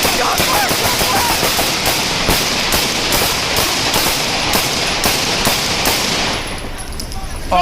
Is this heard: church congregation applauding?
no